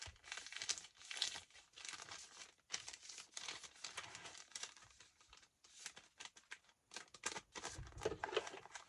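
Journal paper is folded and crinkled by hand in close, irregular bursts of rustling and crumpling over several seconds, with short pauses between handlings and no talk.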